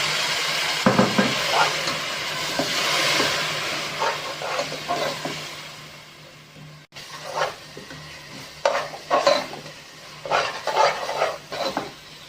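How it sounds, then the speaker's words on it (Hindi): Spiced masala paste for egg biryani frying in a pan with water, giving a steady sizzle and hiss broken by repeated stirring scrapes and clinks, close and fairly loud with no talking. "ये देखिए मसाला हमारा भून चुका है।"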